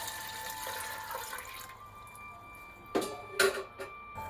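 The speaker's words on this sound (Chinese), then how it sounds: "锅里加水" Water poured into a clay pot for radish and pork rib soup, a steady splashing stream that stops partway through, followed by a few light knocks and clinks in a quiet kitchen.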